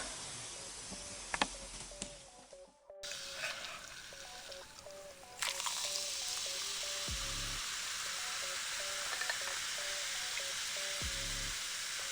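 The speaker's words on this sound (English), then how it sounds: "Yeah, it's fizzing up." Coke fizzing after a vitamin C tablet is dropped in, a steady hiss of bubbling that rises and stays loud throughout, with small clicks and a low hum beneath.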